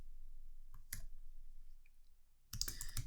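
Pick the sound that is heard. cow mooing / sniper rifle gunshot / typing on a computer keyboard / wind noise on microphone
typing on a computer keyboard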